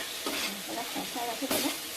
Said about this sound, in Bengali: এই দুধটা এবারে ওতে আমরা দিয়ে দেবো।